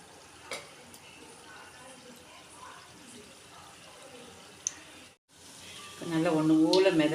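Palm jaggery badusha frying in hot oil gives a soft, steady sizzling hiss throughout, and a voice rises over it near the end.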